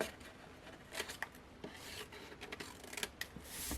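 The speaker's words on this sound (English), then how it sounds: "what I'm going to do with my snips is I'm going to cut, straight on the rectangle and then chop into that square" Metal snips cut straight into card for a hand-penned gift box, a run of close crisp snipping and rubbing strokes at an uneven pace, fairly quiet, with no voices.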